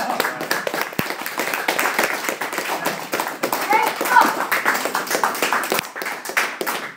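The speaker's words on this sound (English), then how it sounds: "Let's just clap for him again, please." Audience clapping for a speaker at an Occupy Wall Street community event, a steady patter of hands from a moderate-sized crowd, fairly close and continuous with a few sharper individual claps.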